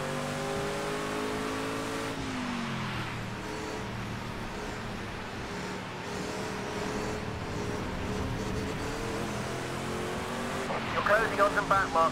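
Race car wheelspin in Project CARS 2, a prototype car in a Transworld Proto C championship race: a steady engine drone with harmonic revving throughout and tire squeal toward the end, with someone talking over it.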